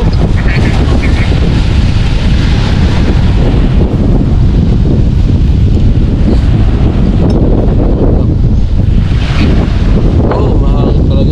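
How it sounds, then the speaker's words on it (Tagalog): Strong wind at the sea in Taiwan buffets the microphone in a constant heavy roar, with rushing gusts and faint water noise beneath, loud throughout. "Mahangin talaga."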